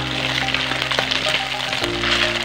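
Citronella leaves frying in hot oil give a constant dense sizzle and crackle, loud and close, with no talking over it.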